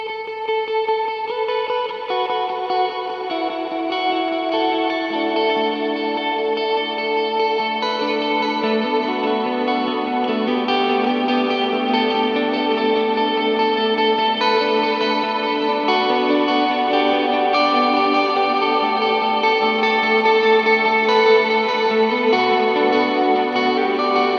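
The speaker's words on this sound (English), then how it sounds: "This is the neck pickup with a ton of reverb and a ton of delay." Electric guitar on the neck pickup, run through heavy reverb and delay, plays sustained, washy chords and notes that ring into one another in a continuous, spacious swell with no talking.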